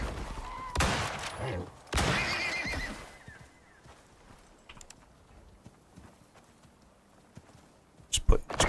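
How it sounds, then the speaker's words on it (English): A horse in the video game Icarus whinnies and clops, loud near the start, with a gunfire-like burst near the end and voices talking in between. "Oh, I hear a horse."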